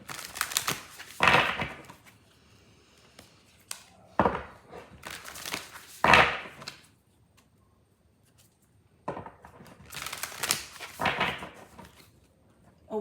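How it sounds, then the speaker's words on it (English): Tarot cards being shuffled by hand during a reading, several separate bursts of rapid riffling and flicking separated by quiet gaps, close and fairly loud, with no talking. "3 more shuffles."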